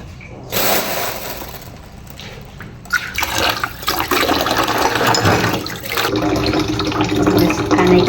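Running water pours and splashes loudly close by during washing, a broad rushing stream that surges and continues with shifting gurgles.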